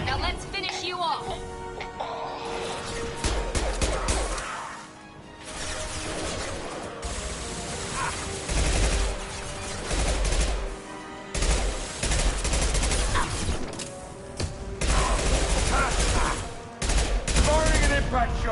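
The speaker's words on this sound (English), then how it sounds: "Firing an impact shot." Impact shot gunfire in Mass Effect 2 Legendary Edition, heavy bursts of fire and crashes erupting repeatedly across a loud combat scene, with voices talking over much of it.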